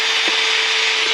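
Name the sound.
drilling a hole in wood for a rosette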